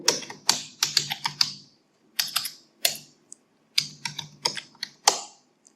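A computer keyboard clatters as a name is typed, with quick close clusters of key clicks separated by short pauses, crisp and fairly loud with no talking.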